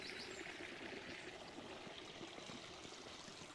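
Water from a garden pond stream trickles and splashes steadily over the lowest waterfall into the sump, a continuous close burble with no voices.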